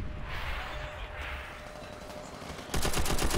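Gunfire in the World War II shooter Call of Duty 5: a steady wash of distant battle noise, then a loud, rapid burst of automatic fire near the end.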